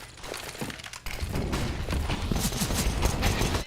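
Rapid pistol gunfire from a P250 in a Counter-Strike match at a pro tournament, a dense burst of loud shots with mechanical clatter, mixed with game ambience.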